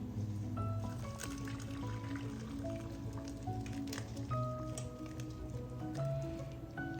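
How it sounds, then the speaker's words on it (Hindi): Curdled milk for paneer poured through muslin cloth set in a strainer over a pot, making rasmalai: a steady, continuous trickle and slosh of liquid draining, close and moderate in level, with faint tonal sounds in the background. "इसके ऊपर हम डाल देंगे मलमल क्लॉथ या सूती का कपड़ा, और इसको डाल के पनीर अपना छान लेते हैं"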